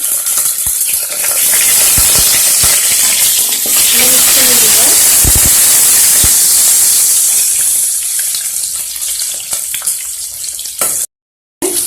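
Curry leaves and green chillies crackle and sizzle steadily in hot oil with mustard and cumin seeds, a loud continuous frying hiss broken by occasional clinks and pops before a brief cut.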